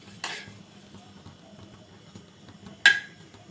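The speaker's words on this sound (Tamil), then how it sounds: "பயத்தம்பருப்பு நல்லா வறுத்தாச்சு" Moong dal dry-roasting in a pan, stirred with two brief, crisp scrapes a few seconds apart over a quiet, faint background with no talk.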